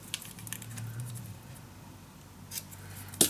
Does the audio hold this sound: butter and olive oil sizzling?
no